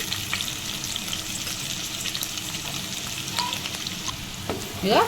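Sliced onions fry in oil, a continuous soft sizzle and crackle with faint stirring scrapes near the end, no talking.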